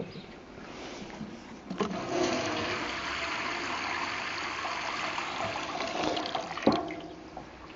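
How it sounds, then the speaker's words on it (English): Water splashes and gurgles as it is poured into a container during a worm farm setup, a continuous rushing pour with a couple of louder splashes near the start and toward the end. "and we'll put some water in it."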